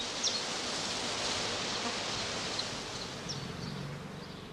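A dense prime swarm of honeybees clustering under overhanging branches on a heathland gives off a steady, hissing outdoor buzz. The drone stays even and unbroken, with no voices.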